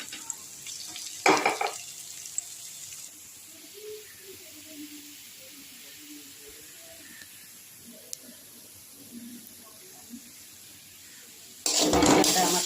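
Onion and spices frying in a pan for a Bengali fish curry (macher jhal) make a faint, low hiss, broken by two louder sizzling bursts near the start and end.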